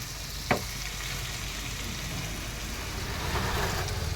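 Masala for a fish curry fries in oil with a small splash of water, giving a soft, steady sizzle. A single utensil clink sounds near the start, and the hiss rises slightly toward the end.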